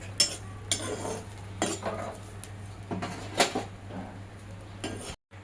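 Roasted cluster beans are scraped and lifted out of a metal pan, with repeated clattering utensil knocks and scrapes in an irregular rhythm, close and fairly clear over a steady low hum.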